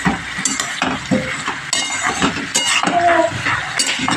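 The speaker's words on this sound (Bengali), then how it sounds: "এবার ভালোভাবে আমি একটু নেড়ে নিচ্ছি।" Vegetables with turmeric and salt for veg biryani are stirred briskly in a hot pan, with close, busy scraping, clinking of a metal spoon against the vessel, and an underlying sizzle throughout.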